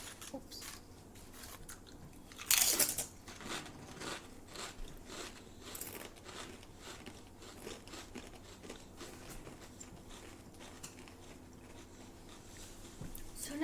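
Kettle-cooked Lay's potato chips crunched close up, with a loud bite early on followed by steady, fainter chewing crunches, under a quiet room hum.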